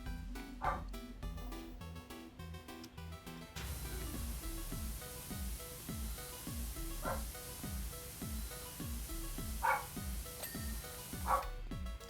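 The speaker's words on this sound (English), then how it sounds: "There is a little man woofing away in the other room." A small dog barks and yips repeatedly from another room, fairly distant and muffled, in short bursts over steady game music with a rhythmic beat.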